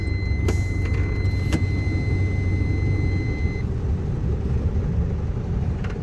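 A truck on a slope idles and rumbles low and steady, with a couple of sharp clanks early on and faint tonal beeps fading out partway, no voices.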